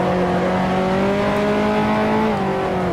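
A 1955 Formula One car at the Nürburgring in Grand Prix Legends holds a loud, steady engine drone near the listener, pitch easing slightly downward as it runs.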